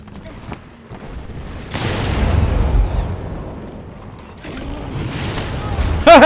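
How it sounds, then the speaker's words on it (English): A bomb goes off in Monster Hunter World, a deep rumbling blast swelling midway and fading into a low roar, surrounded by game ambience and other hits. "My bomb did absolutely nothing"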